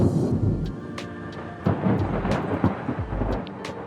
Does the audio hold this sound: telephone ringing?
no